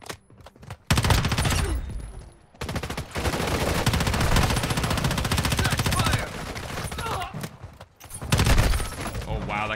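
Sustained automatic gunfire in the mobile shooter Warzone Mobile, loud and close, with dense rapid bursts that run for several seconds, break off briefly and resume, while a player talks over the shooting.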